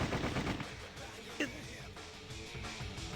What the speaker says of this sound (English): More bullets cracked and pinged off the walls and ceiling, tearing away parts of them